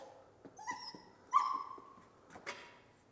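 A young puppy whimpering in high thin whines and letting out a few small yips, with short quiet gaps between the sounds in a quiet room.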